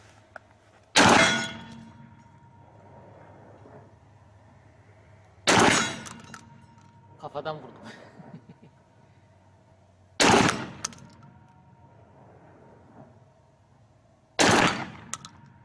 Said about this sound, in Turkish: Beşer atış bir yap bakalım.